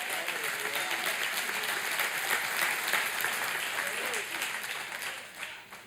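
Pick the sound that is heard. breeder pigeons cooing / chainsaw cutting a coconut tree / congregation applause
congregation applause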